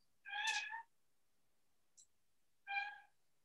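Two clear meows from a house cat, each under a second long, separated by a short quiet gap with a tiny faint blip between them; nearby and fairly loud with no talk.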